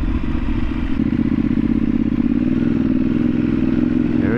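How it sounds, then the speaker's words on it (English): Close, continuous engine drone of a 2013 Ducati 848 EVO sport bike under way, steady and loud with faint clicks and clatter of gear shifts mixed into the ride noise. "Shifting, it feels so smooth. It just goes right into gear."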